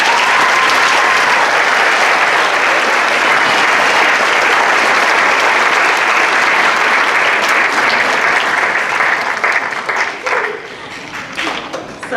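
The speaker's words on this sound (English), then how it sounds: "Give her a round of applause." Audience at a middle school orchestra and choir concert applauding loudly in a full, sustained wave of clapping that thins and fades near the end.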